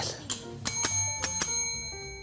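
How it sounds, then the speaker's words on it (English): A small ringing bell gives a few bright dings in two quick pairs, close and clear, each tone fading out afterward. "She hates this bell."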